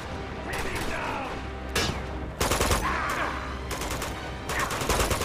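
Rapid bursts of automatic gunfire from a firefight in Uncharted 2: Among Thieves, loud repeated rattling volleys separated by short gaps, with game sounds underneath.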